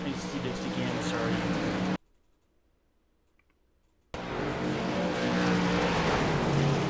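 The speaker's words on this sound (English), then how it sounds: "So yeah, car racing going on here." Limited late model race cars on the Oswego dirt track in iRacing roar loudly and continuously in two bursts, broken by a sudden two-second near-silent gap.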